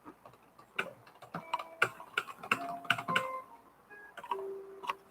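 Quiet, irregular clicking of keys on a computer keyboard, close by, with short pauses between bursts of keystrokes and no talking.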